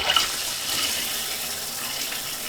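Shower water runs in a steady, fairly soft hiss of spray with no voices, close by and unchanging throughout.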